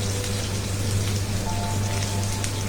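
Chopped onions in hot oil give a dense, even sizzle like steady rain, crackling continuously at close range with no voices.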